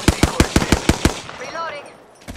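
Hemlock burst rifle firing in Apex Legends: about seven sharp, evenly spaced shots rattle off in quick succession, loud and close, then fade into a ringing tail with a short electronic whine.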